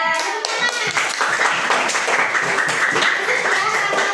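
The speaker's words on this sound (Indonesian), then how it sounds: "Iya, tepuk tangan." Applause from schoolchildren in a Grade 5 Indonesian mathematics class, a dense patter of small hands clapping close by that fills the room and runs steadily to the end, with a few young voices mixed in.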